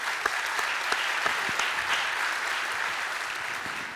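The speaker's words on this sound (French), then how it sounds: "Voilà, vous pouvez applaudir." An audience at a business awards evening claps steadily for a few seconds, a thick even wash of applause from many hands with a few sharper individual claps standing out.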